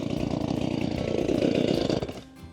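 A chainsaw being started, its choke just set, sputters and buzzes loudly for about two seconds with a fluttering, uneven engine rhythm before dying away abruptly, close to the listener and with no talk over it.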